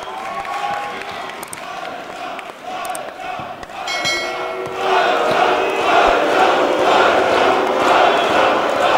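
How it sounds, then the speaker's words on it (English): A wrestling crowd at a wXw indie event, with one section chanting a wrestler's name as another answers with loud boos, a dense roar of voices that swells louder halfway through and holds steady. "We get a Walter chant emerging from one section of the crowd, drowned out in boos by another"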